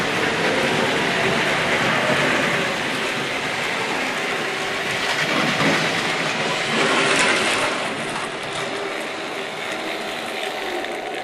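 A small Hornby Triang Rovex model train rattles and clicks steadily along its track, a continuous mechanical whirr with no talking.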